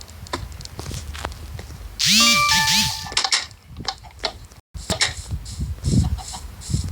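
Chickens in the video game Minecraft give a short burst of high clucking calls in the middle, layered with game chimes and clanks, amid other game noises before and after a brief dropout.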